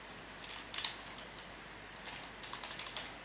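Quiet, close keystrokes on a computer keyboard as program arguments are entered, in two short irregular bursts of light clicks over a low steady hiss.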